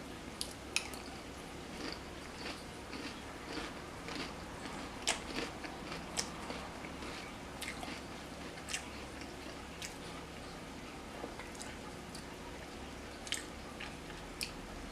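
Quiet, close biting and chewing of food, with soft crunches and squishy mouth sounds repeating irregularly over a faint background hum.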